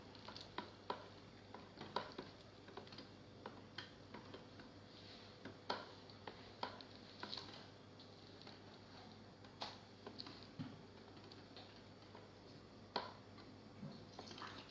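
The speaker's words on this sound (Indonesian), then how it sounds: "Kita aduk lagi." Homemade liquid laundry detergent mixture is stirred in a container, giving quiet, soft repeated scraping and sloshing strokes at an irregular rhythm over a faint background hum.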